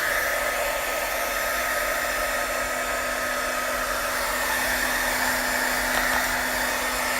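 A hair dryer blows loud and steady at close range, drying a wet layer in one unbroken whoosh with a constant motor hum and no talk.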